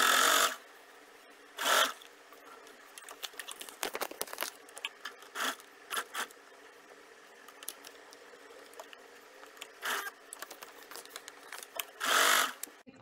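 A home sewing machine stitching a design across a sleeve, with short bursts of rapid mechanical whirring separated by quiet pauses and small clicks as the fabric is repositioned.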